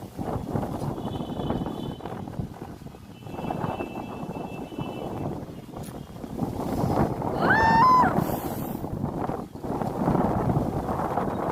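Steady gusty wind blowing across a dusty rooftop just before the year's first rain, a continuous broad rush with buffeting on the microphone and a brief faint bird-like chirp in the middle.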